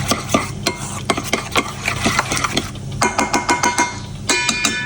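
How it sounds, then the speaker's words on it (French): Spoon or utensil scraping and clinking rhythmically against a bowl while homemade Caesar salad dressing is stirred with salt and pepper, close and fairly loud, with repeated quick strokes throughout. "et on mélange"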